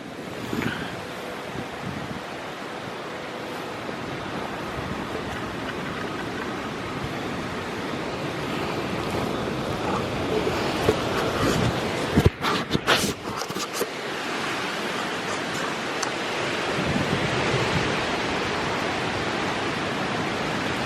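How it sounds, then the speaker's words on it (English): Hurricane Helene winds in Athens, Georgia thrash through trees with a continuous, loud broadband roar, swelling into sharper gusts and buffeting bursts midway before settling back into a steady rush. "there's the trees going crazy. From the wind"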